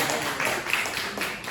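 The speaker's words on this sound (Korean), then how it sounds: "뭐 전세 좀 받았다고 박수 주시고" A church congregation claps steadily, a dense patter of many hands applauding at moderate volume for a moment.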